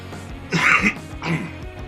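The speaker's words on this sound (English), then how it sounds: "Elbow cough." Two rough, throaty coughs close to the microphone, a short pause between them, in an otherwise quiet room.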